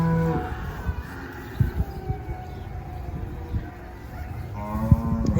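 A Charolais and Angus cattle herd lows repeatedly, with several drawn-out moos rising over a steady farmyard background, loudest near the start and end.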